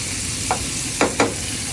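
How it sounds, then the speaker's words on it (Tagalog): Onion, tomato and garlic sauté in a pan for sardines, a steady sizzle with a few quick scraping stirs of the spatula standing out near the end. "Isag-isa tayo ng sibuyas, kamatis, bawang."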